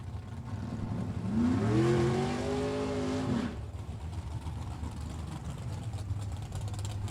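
A Super Pro dragster revs at a drag strip, a rising engine whine with a clear upward pitch sweep that swells for a few seconds and then drops away, leaving a low rumble in the background.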